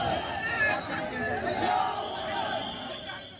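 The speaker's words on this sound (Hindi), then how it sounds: "2 स्टूडेंट्स के ग्रुप्स आपस में ही भिड़ गए और दोनों तरफ से जबरदस्त नारेबाजी शुरू हो गई" Rival student groups clash during a Deepawali celebration at Jamia, with a crowd shouting slogans back and forth and raised voices piling up in a steady, noisy roar.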